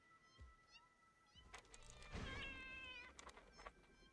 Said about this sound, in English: Sounds like the kitties are fighting a basher.